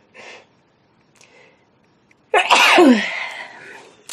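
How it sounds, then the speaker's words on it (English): A short breathy intake and a faint pause lead into one loud, sharp human sneeze, a sudden explosive burst that tails off into a breathy exhale, close and alone. "I gotta sneeze."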